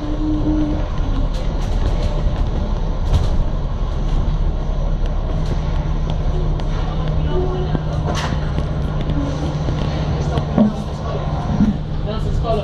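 A London Underground train runs between stops with a steady low rumble and rattling hum inside the carriage, while people talk nearby over the noise.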